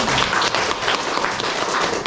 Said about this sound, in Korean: 야, 우리 박수 한번 칩시다.